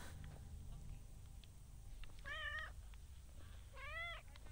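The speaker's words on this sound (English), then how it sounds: "You're so noisy, cat." Two distinct meows from a cat in the video game Skyrim, each a short rising-falling cry, heard over a steady low game ambience with faint footsteps and background hum.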